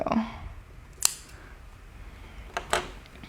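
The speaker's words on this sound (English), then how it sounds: "So I'm actually going to cut this strip in half." Scissors snipping through a thin quilling paper strip, with a few sharp, quiet cuts spaced apart over a faint room background, close up with no talking.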